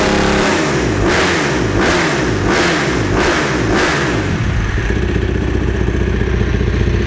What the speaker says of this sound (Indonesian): Suara RPM-nya tuh beda ketahannya.